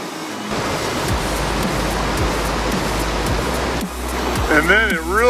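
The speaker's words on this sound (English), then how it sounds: "Right past the turnoff, you have a significant creek crossing." Mountain bike crossing a significant creek more than a foot deep on rough Halfmoon Road, a loud continuous rush of splashing water that drops briefly near the end before a voice briefly talks over it.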